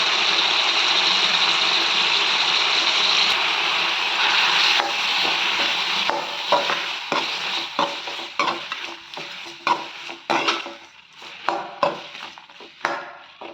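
Tomatoes with dried red chillies and curry leaves sizzling and frying in oil in a pan with a spoon stirring, steady sizzle at first, then a run of scraping strokes near and loud.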